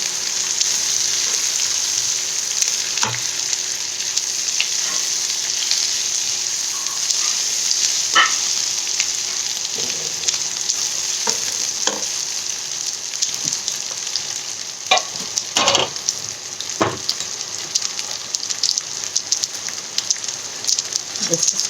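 Cashew nuts, garlic and ginger fry in a pan with a dense, steady sizzle, broken by scattered sharp crackles and pops that grow busier toward the end.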